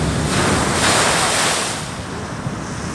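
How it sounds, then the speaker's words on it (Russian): A stormy sea crashes in steady, loud, roaring surf beside a flooded road, mixed with heavy wind buffeting the microphone. "На дорогу вышла вода."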